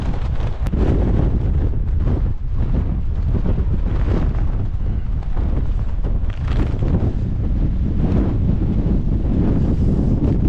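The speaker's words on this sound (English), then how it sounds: "I think the wind's changed direction from the side a little bit." Strong gusty wind, around 30 mph crosswinds from Storm Bert, roars and buffets tents at an exposed mountain camp, a loud constant rumble with surging blasts close to the microphone.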